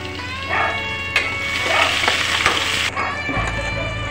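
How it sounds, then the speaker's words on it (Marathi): Chopped onion sautéing in hot oil with cumin seeds in a pan for Vidarbha-style misal, a steady close sizzle with stirring scrapes throughout and no talk. "एक मोठ्या साईजचा चिरलेला कांदा आणि चांगल्या प्रकारे परतून सुद्धा घेणार आहे।"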